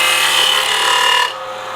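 A woodturning tool cutting a bead into spinning wood on a lathe, a bright, steady hissing scrape that runs for over a second and then drops away to a quieter hum.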